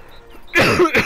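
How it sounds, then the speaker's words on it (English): A person coughs right up close, one harsh burst followed quickly by a second, shorter cough, with near silence just before. "Oh my god, I feel a massive cough coming on."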